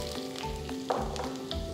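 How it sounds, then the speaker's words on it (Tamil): Mustard seeds crackle and pop in hot oil, a quick irregular spluttering sizzle heard up close. "கடுகு பொரிய ஆரம்பிச்சிருச்சு."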